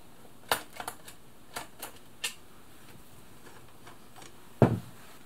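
Screws removed from a sewing machine while working on thread tension looping underneath produce a few sparse metallic clicks and taps, close and faint, ending in one louder clunk, with no talk.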